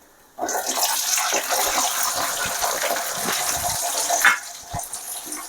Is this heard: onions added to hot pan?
yes